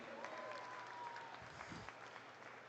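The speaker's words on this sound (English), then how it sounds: "So please give those 2 a round of applause and tell them thank you." Audience applause at a sheep dog trial at a stock show, a steady wash of clapping from a crowd with faint talk underneath.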